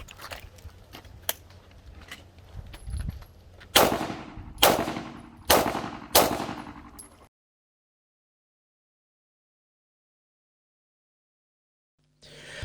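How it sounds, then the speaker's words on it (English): Pistol shots ring out at an IPSC shooting competition stage. There are several sharp, loud cracks close by, first fainter and quicker, then four heavy evenly spaced shots, followed by long silence. "I reload and close the chamber to allow me to continue firing"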